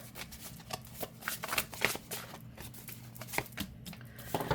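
An oracle deck of bird cards being shuffled overhand by hand, a continuous soft flutter of card slaps and riffles in repeated quick bursts, close and steady, with no talking.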